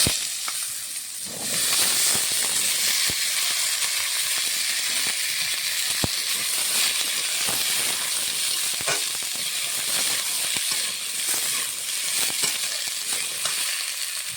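Potato pieces fry in hot mustard oil tempered with bay leaf, nigella and cumin seeds, a loud, steady sizzle with dense crackling and occasional stirring clicks, close up with no talk.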